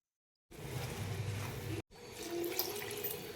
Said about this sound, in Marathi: थोडं पाणी मिक्सर विसळून घेतलंय.